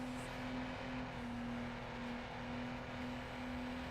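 Nissan Skyline engine in Need for Speed Underground, a steady sustained drone at cruising speed with a faint whine, moderately quiet and constant throughout.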